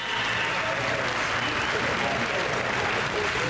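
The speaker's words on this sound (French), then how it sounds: "Ils sont gentils d'applaudir." Audience applause with crowd noise at an event, a dense continuous wash of clapping mixed with overlapping voices, fairly loud and unbroken.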